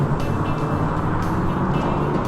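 A 1987 Porsche 944 Turbo launching hard in a drag race with some wheel spin, a dense, steady roar of engine and road noise heard close and continuous.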